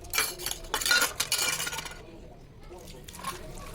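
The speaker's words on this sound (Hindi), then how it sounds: "और ये छोटे बर्तन हाथ के हाथ ही मैं वॉश कर लेती हूँ" Small kitchen utensils and dishes clatter and clink during washing at home. A burst of close metallic rattling comes first, then fades into a softer, steady wash of water-like noise.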